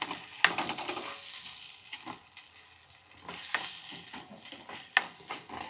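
Cashew gathiya curry with spices being stirred in a pan: soft scraping and gentle sizzling with irregular utensil clinks and scrapes, fairly quiet and close, no talking.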